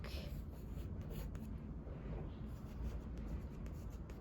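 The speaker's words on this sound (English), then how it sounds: "letting the pencil do the work." Steady, close scratching of a pencil sketching across paper, a continuous soft rasp with small strokes, no voices.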